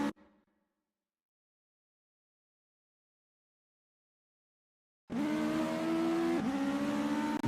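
A race car in an SRA Legends race, running unsettled at speed, bursts in after a long silence with a loud, steady engine drone that holds for several seconds with one brief shift in pitch.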